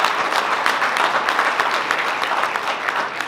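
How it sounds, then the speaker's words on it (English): A crowd applauds at a boxing event during a sponsor announcement, brisk, evenly sustained clapping with sharp individual claps standing out and no voices over it. "I would like to ask for a round of applause for this man"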